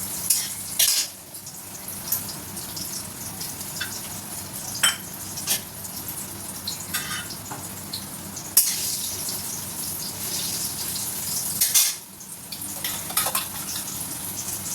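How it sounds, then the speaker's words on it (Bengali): Pumpkin pieces frying in a pan on a home stove give off a steady, close sizzle, with occasional clinks of a utensil against the pan. "সেটাও ভেজে নিলাম।"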